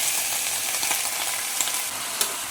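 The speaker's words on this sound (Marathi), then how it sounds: "ह्यातच आपण हे सारण जी खोबरं आणि गुळाचं ते सगळं ह्याच्यात टाकूया" Grated coconut and jaggery filling cooks in a pan over a low flame, giving a soft, continuous sizzle with light scraping and a couple of faint taps from stirring, close by and with no voices.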